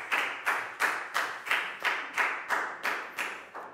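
A primary school class claps in unison for a classmate, about eleven evenly spaced, sharp collective claps in a steady rhythm, moderately loud and close, with no talking.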